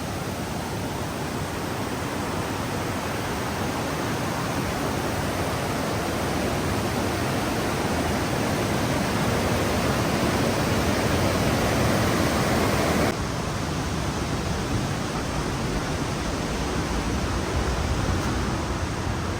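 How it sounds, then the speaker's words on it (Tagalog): Strong river current rushing loudly through Wawa dam in Montalban after rain, a steady, dense roar of churning water that stays close and constant throughout, with no voices over it. "Lakas ng alon. Ay, alon. Agos. Kasi nga umulan."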